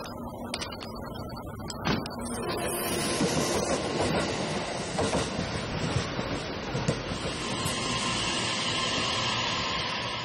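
Overnight train in Japan, bound for Iwaki in Fukushima Prefecture, running on rails. A few sharp clacks open onto a sustained, loud rumble of the cars with rhythmic wheel clatter and faint squeal, and no talking.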